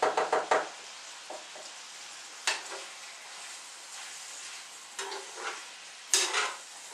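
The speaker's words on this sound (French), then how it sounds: "Là, les lardons commencent à être bien. On va faire les laisser cuire." Lardons and potatoes frying in a pan for a gratin, a faint sizzle beneath several sharp knocks and scrapes of a utensil stirring against the pan, without speech.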